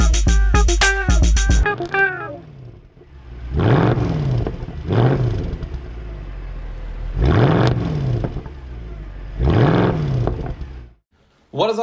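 A 2004 Mercedes-Benz C55 AMG engine runs loud and close after starting, with repeated revs that rise and fall in several surges before settling into a steady idle.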